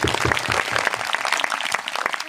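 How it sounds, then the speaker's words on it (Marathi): An audience at a rural de-addiction gathering in Maharashtra claps in a dense, sustained burst of applause, close and fairly loud throughout. "याबद्दल टाळ्या वाजून आपण त्यांचं स्वागत करू"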